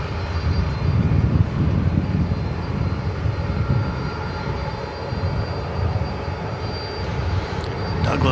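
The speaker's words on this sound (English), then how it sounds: "this is American Flight 2224, and it started rolling down runway 18 left" An American Airlines airliner takes off from runway 18 left at DFW Airport at night, its steady jet engine roar rumbling loud and continuous throughout with no talk.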